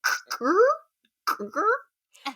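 A voice imitates lighter fluid being squirted from a carton onto a Zippo lighter, two short squeaky, rising vocal squirts with a pause between, followed by a brief breathy sound.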